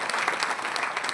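Loud, dense clapping from an audience at a seminar-style gathering, a continuous burst of many hands with no voices over it.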